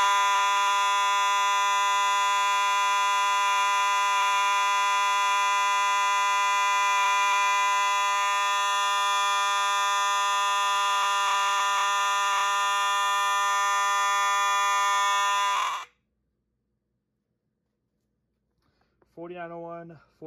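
Fire alarm horn dating from September 1994, a single continuous harsh buzzing tone, loud and close for about sixteen seconds, then it cuts off into silence before a short voice speaks.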